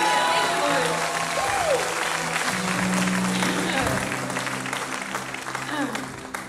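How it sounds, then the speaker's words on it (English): A church congregation giving a loud, sustained round of hand clapping that fills the clip and slowly fades toward the end, with a voice speaking over it at times. "Come on, give the Lord Jesus a mighty hand clap."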